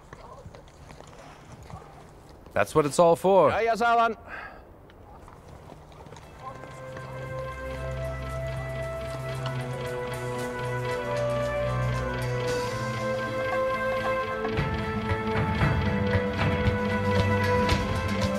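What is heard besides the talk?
Icelandic horses' hooves as they are driven home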